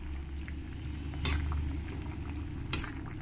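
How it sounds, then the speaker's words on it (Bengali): Fried fish pieces dropped into a simmering kudri and fish curry, a soft bubbling and sizzle in the pot with a brief louder splash and stir partway through. "এবার আমি এর মধ্যে দিয়ে দেবো যে মাছগুলো ভেজে রেখেছি"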